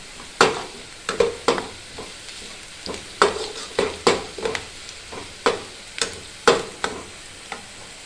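Chopped onions and chilies sizzle in hot oil for a kadhi, with a spoon stirring and scraping the pan in repeated sharp strokes over a steady low frying hiss.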